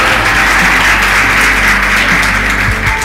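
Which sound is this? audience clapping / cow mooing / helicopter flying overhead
audience clapping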